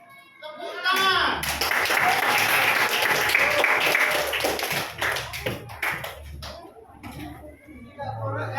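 A classroom of students applauds during a lesson, a dense burst of clapping that swells, holds, then thins into scattered claps, with children's voices and chatter mixed in near the end.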